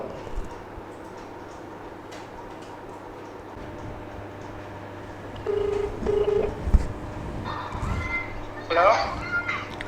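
Short electronic beeps of a telephone dialing a call sound near the middle of the clip over steady background hum and faint voices, followed by a brief chirpy tone.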